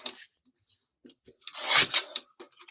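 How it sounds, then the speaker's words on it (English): Paper strips are trimmed by hand for a scrapbook layout, heard as short close rasping, scraping cuts with pauses between them and one longer, louder pass near the middle. "we're just going to trim 8 strips"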